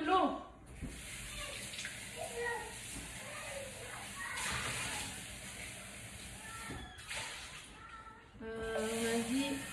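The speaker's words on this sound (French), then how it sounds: "on va prendre de l'eau" Tap water runs and pours into a container while making vanilla yogurt in a Thermomix, a steady close hiss of flowing water with a few breaks and light clinks.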